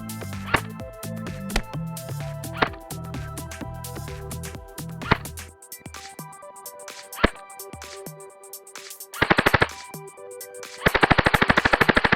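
A Black Ops M4 Viper MK5 airsoft gun fires outdoors, with scattered single shots and then two loud rapid-fire bursts near the end over a steady mechanical hum.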